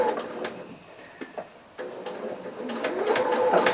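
A sewing machine stitches along the crease line of fabric bias binding in short, faint bursts of whirring with small clicks and pauses between runs.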